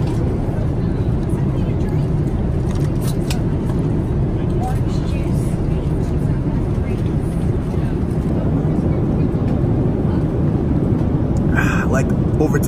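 A steady, loud low roar of airplane cabin engine noise fills the clip, with voices talking faintly beneath it.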